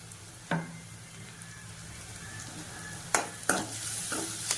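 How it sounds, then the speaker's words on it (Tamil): Onion, curry leaves and green chillies sautéing in a pan for a spicy prawn gravy, a faint steady sizzle with a few sharp clinks and scrapes of stirring near the start and end. "இது 2 சேர்த்து வதக்கணும்."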